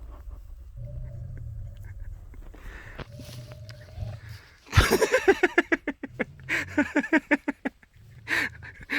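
A livestock guard dog snarls and growls in harsh, loud bursts while a second dog plays nearby, with lower rumbling growls before a rapid series of vicious snapping growls.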